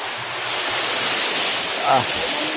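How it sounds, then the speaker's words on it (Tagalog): A strong, constant typhoon wind roars across the microphone, loud and unbroken for the whole moment. "Hangin."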